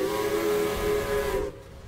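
A loud steam locomotive whistle from an animated Thomas & Friends engine blows as one steady, piercing tone for about a second and a half, then cuts off abruptly.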